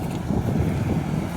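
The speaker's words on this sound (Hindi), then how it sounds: "इतना भयानक पानी जा रहा है" Heavy water rushes through a village dam during rain, making a steady low roar with gusts of wind noise and no voices.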